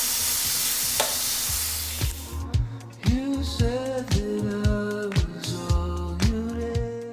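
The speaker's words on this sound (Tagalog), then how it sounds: "una nating step is i-fry lang natin dito yung ating beef" Beef for stroganoff sizzling in a hot pan, a steady frying hiss with repeated scraping and stirring clatters from a utensil against the pan, close and alone without talk.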